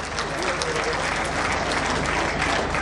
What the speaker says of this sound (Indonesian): sekali lagi boleh kita berikan tepuk tangan yang meriah